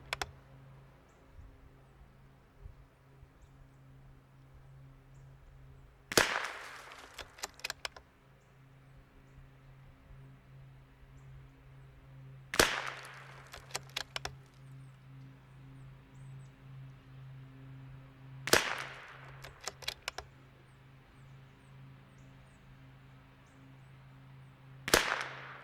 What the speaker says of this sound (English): Let's see what kind of groups we can shoot out here at 50 yards.